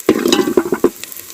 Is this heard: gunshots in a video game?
no